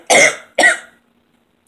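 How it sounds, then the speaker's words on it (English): Two short, dry human coughs in quick succession, close and fairly loud, from a woman during a makeup tutorial, followed by near silence and a faint click. "every video got a cough."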